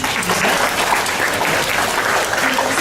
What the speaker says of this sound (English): So one more clap.